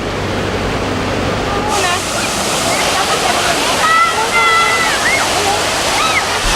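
Children's water park fountains at KLCC in Kuala Lumpur give a constant loud rush of splashing water, with faint distant voices and high cries above it.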